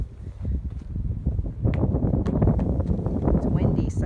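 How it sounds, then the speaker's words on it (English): Low rumbling wind buffets the microphone steadily throughout at a marathon in Wisconsin, with a voice and bits of talk mixed in underneath. "It's windy."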